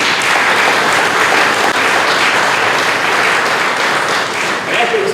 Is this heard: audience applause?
yes